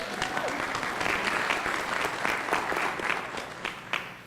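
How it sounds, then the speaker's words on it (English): An audience at a school board meeting applauds steadily for a children's performance at First Avenue School, a dense, even wash of many hands clapping that holds throughout and tapers slightly at the end. "Can we please give them another round of applause?"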